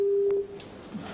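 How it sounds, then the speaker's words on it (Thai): Telephone busy tone after a dropped call, a single steady beep that cuts off partway through, loud and close, followed by faint line noise. "สายหลุด เดี๋ยวโทรมาใหม่"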